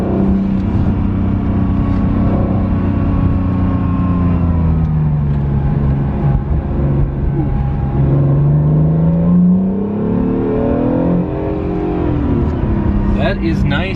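An Acura NSX engine accelerating through a series of corners, its note rising and falling with steady revving and tire noise, loud and close throughout, with a voice talking over it.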